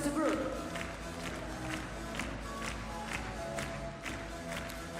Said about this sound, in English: please welcome with big applause the pairs of the first group